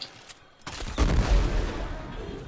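Sci-fi gunfire from Mirage in the video game Warframe erupts as a sharp crack and then a dense, booming volley that fades slowly, preceded by softer ability effects.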